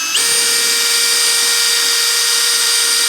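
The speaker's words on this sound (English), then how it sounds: "We'll go ahead and drill the front hole." A power drill starts abruptly and whines at a steady high pitch, loud and close, drilling a rivet hole for a snowmobile running board brace, running continuously to the end.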